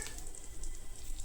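Mustard seeds, dried chillies, curry leaves and cumin hit hot oil and ghee with cashews, giving a brief, soft crackling sizzle with faint pops, close by and alone.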